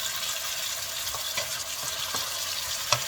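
Rice being stir-fried in a pan with a little oil and seasoning powder, a constant soft sizzle with scattered scrapes and clinks of a spatula against the pan.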